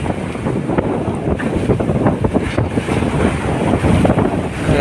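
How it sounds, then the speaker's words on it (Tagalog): Strong wind and roughly ten-foot waves hit by the northeast monsoon at sea, recorded from a boat: a steady, loud roar of wind buffeting the microphone over the rush of surf, with no talk. "Lakas ang alon mga idol."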